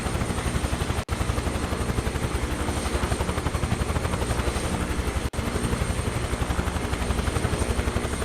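A helicopter in Microsoft Flight Simulator 2024 thumps with a loud, steady rotor beat over a dense engine roar, unbroken apart from two tiny dropouts.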